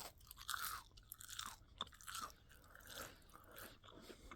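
Crispy onion ring from a fast-food meal being bitten and chewed close up, with several crunchy bites and soft mashing in between, no talking.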